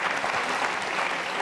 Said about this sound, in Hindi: तालियां बजाइए इस जानकारी के लिए आप।